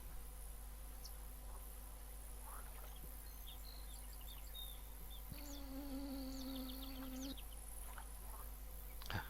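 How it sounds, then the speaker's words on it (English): Flies buzz around a house, a low steady drone with intermittent higher buzzing passes over a constant background hum, faint and without talk. "All I'm hearing right now is flies buzzing around my house."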